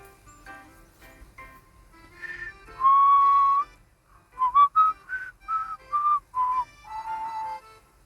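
A person whistles a simple tune in clear, sustained notes, with short pauses between phrases and faint background noise, in the video game Love and Deepspace.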